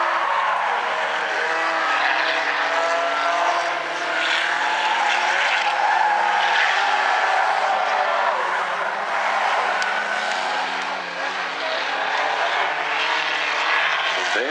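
Stinger 8 race cars in an A-Main at South Sound Speedway drone continuously, several engines overlapping in a loud, sustained roar that rises and falls as the pack circles, with no talk.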